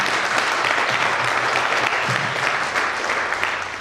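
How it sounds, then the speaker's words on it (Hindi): Loud, sustained applause fills a hall at a company's first anniversary celebration, dense and even from many people throughout, easing off slightly at the end. "एक बार फिर अपने लिए जोरदार तालियां बजाइए।"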